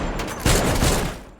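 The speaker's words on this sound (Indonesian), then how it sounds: "Jo-hoon dan Ji-young sempat terkena beberapa tembakan." Burst of gunfire in a film fight scene, a short rapid volley of shots that swells suddenly, then fades within about a second.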